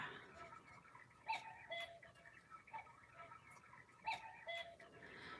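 Faint chirps and short whistled calls of a bird, repeating in a loose pattern at a distance over a low background hum.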